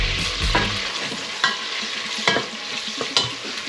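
Dried ñora peppers and garlic fry in a pan with a steady broadband sizzle, broken by a few sharp stirring scrapes and clicks; no voices.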